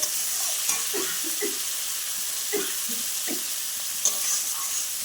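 Spiced potatoes fry in a pan with a constant bright sizzle, broken by soft scraping strokes of a spoon stirring them at an uneven pace.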